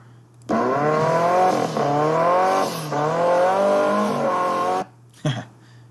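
A Nissan SR20DET-powered car drifting sideways, its engine revving hard and steady with tire squeal layered over it, loud and close for about four seconds before cutting off.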